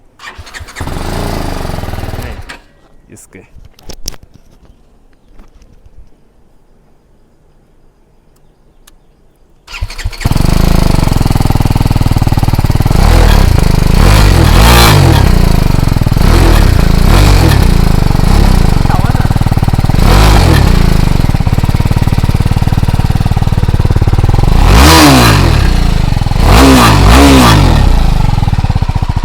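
A single-cylinder adventure motorcycle, a BMW G 310 GS or KTM 390 Adventure, idles roughly, then revs loudly and repeatedly, with sharp throttle blips over a steady close exhaust rumble and a brief voice early on.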